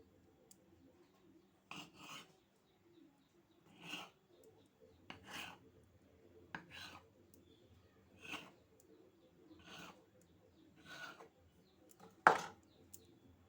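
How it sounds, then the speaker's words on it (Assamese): A soft dough ball for singra is cut into eight pieces on a board, each cut a faint scraping rasp, spaced roughly a second or more apart in a quiet kitchen. "এতিয়া এই লাডুটো 8টা ভাগ কৰি ল'ম।"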